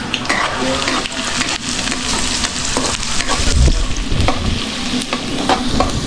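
Garlic and onion fry loudly in a pan, a dense crackling sizzle broken by repeated metal utensil scrapes and clinks against the pan, close and continuous with no talk.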